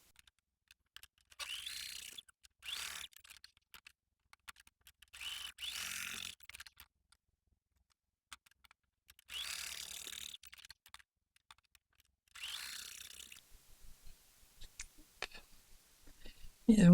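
A domestic sewing machine runs gathering stitches through swimsuit fabric in several short bursts, each a few seconds long with a steady mechanical whir, separated by pauses and small handling clicks.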